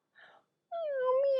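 Young voices imitate a cat's meow for a children's storytelling of The Gingerbread Man: a short soft vocal sound, then one drawn-out, wavering meow up close.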